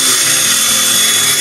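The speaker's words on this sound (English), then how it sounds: "And I sharpen them with this drill thing." A drill-powered sharpener grinds lawnmower blades outdoors without mains electricity, a loud, steady high-pitched whine that runs unbroken throughout at close range.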